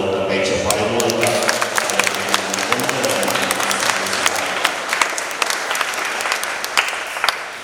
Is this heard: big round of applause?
yes